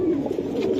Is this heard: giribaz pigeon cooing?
yes